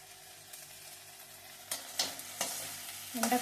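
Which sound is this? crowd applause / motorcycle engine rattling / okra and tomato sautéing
okra and tomato sautéing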